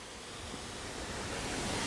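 Duden waterfall in Antalya pours in a steady, dense rush of falling water, soft and constant with no voices.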